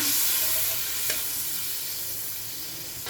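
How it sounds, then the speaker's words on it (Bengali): Spice paste fries in a hot pan with a steady loud sizzle, broken by a couple of scraping stirs of the spatula, with no talk. "ভালো করে মশলাটাকে কষিয়ে নেবো। আর একবার নেড়ে দেবো মশলাটাকে।"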